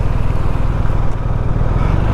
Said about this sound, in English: the first thing you notice is the engine going back to a 2-cylinder